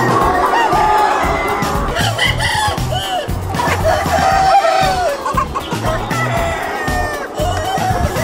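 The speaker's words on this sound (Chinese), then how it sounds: "啼的是公鸡，公鸡才会啼。" Hillside free-range chicken farm at Kaohsiung's Moon World, with many roosters crowing and hens clucking at once in a dense, loud flock chorus, overlapping calls near and far.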